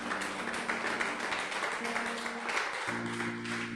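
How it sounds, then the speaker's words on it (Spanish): A church congregation applauds with a steady, dense wash of clapping that holds for several seconds at moderate distance, over a low hum. "un aplauso ahí para el varón"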